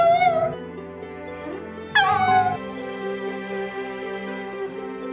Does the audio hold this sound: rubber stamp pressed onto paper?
no